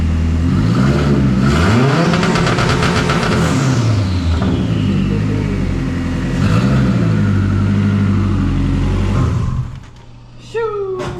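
A Honda Prelude fitted with a new exhaust revs loudly and close by, its engine note rising and falling twice over a steady idle before dropping off near the end.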